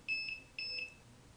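Electric bell set off by an eye-controlled cursor, sounding as two short, faint electronic buzzing tones in a quiet room.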